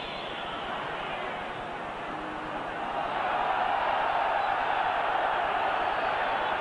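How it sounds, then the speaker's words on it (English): Stadium crowd at a Serie A football match between Lazio and AC Milan, a broad distant roar of cheering that swells louder partway through and holds steady, with commentary spoken over it. "A lot of cheering going on."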